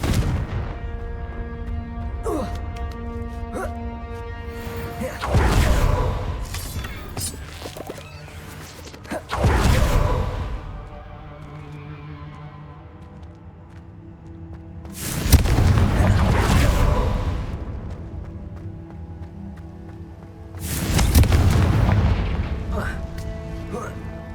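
Confringo fire spells from the game Hogwarts Legacy explode three times, each blast a loud booming burst that rolls off slowly over steady game music, with a voice calling out the spells.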